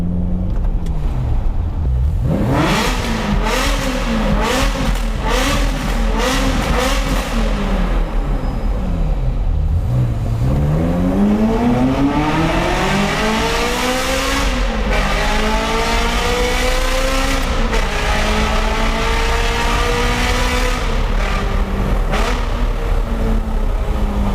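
A loud Ferrari with a straight-pipe exhaust revs hard and repeatedly on a public road, engine pitch sweeping up and down through sustained throttle blips and pulls, close and continuous throughout.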